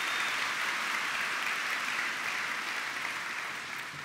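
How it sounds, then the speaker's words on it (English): Graduation ceremony crowd at a college commencement applauding graduates, a sustained even roar of many hands clapping at moderate distance, slowly tapering near the end. "That's worth clapping for."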